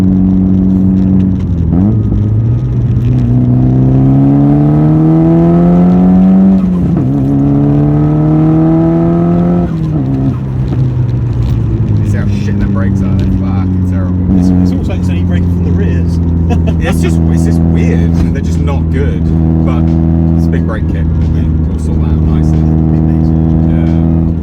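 A Nissan Pulsar GTiR engine accelerates loudly while driving, its drone climbing in pitch through several gears with shift dips between them. Someone talks over the engine inside the car.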